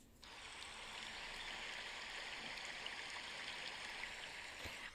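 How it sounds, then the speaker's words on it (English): Steady, faint rushing of flowing water from a river or well, an even broadband wash with no pauses and no voices. "I had like recorded the sound of the waves, not the waves, the well, I guess it's kind of waves, the water"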